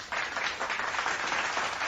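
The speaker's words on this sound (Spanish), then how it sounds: "voy a poner un aplauso" Applause sound effect dropped into a podcast, a steady wash of many hands clapping at moderate level for a couple of seconds with no voices over it.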